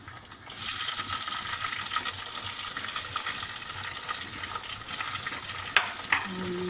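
Tomato dropped into a sizzling beef handi pot: a sudden loud sizzle bursts up and holds steady, with a couple of sharp metallic clinks near the end.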